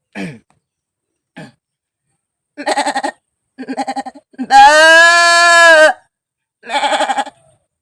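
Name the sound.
person imitating a goat bleating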